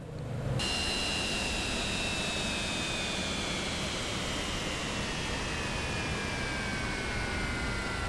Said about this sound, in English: we've got our APU running at the moment